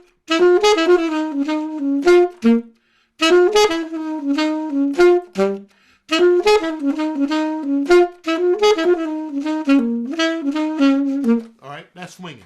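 A saxophone plays a swinging jazz line, phrases separated by short pauses, close and loud with no talking.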